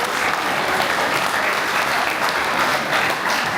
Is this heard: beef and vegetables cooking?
no